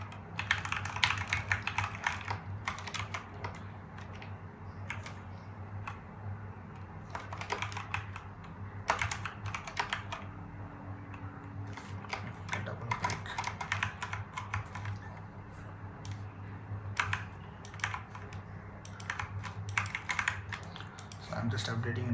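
Rapid, uneven keyboard typing as code is entered on a computer, clicks close and steady over a low background hum, with a voice talking at times.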